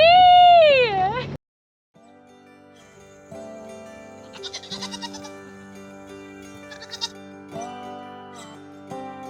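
A goat bleats loudly and close by in a goat pen, one long wavering cry at the start, then soft music carries on alone.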